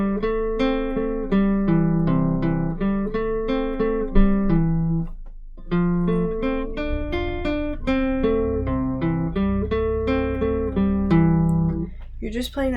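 A guitar plays a whole simple song with a riff, a steady run of plucked notes and brief chord strums, close and bright, with a short pause midway and a final note ringing out.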